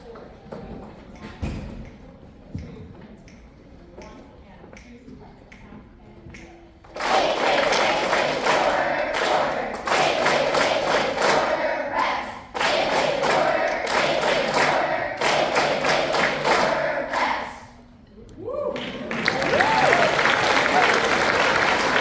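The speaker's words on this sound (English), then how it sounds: "we have them clap and count the beats. So it sounded like this." Fifth-grade middle school students at a spring concert clap out rhythms while counting beats: sparse, separate claps at first, then loud dense bursts of group clapping that stop and restart several times, with voices mixed in.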